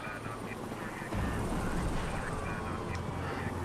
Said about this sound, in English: Okay, we got some helicopter sounds.